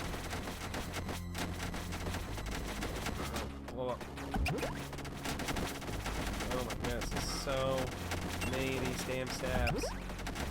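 Rapid video game gunfire in a demon-tier final boss fight, dense bursts of shots and impacts crackling throughout amid explosions, with a player talking over the action.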